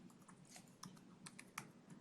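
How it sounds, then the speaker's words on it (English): Rapid keystrokes on a computer keyboard while a password is entered, irregular light clicks closely spaced and quiet, with a few sharper taps standing out, no voices. "Nothing better than typing in passwords."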